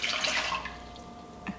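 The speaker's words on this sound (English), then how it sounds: "First put your water in, so the water has to be" Warm water is poured into a bowl to start pizza dough, beginning as a bright splashing stream that fades into softer trickling, then a brief drip near the end, close by with no speech.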